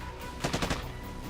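A short burst of four or five rapid gunshots rings out during a police encounter at a house, quick and close together against a quiet background.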